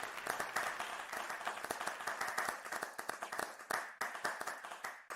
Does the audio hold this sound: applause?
yes